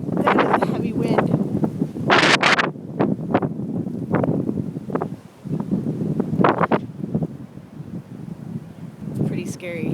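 Heavy wind during the 2011 Chicago snowstorm near Lakeshore roars and gusts across the microphone in loud buffeting bursts, with rustling and brief sharp peaks, and a voice speaks under the din.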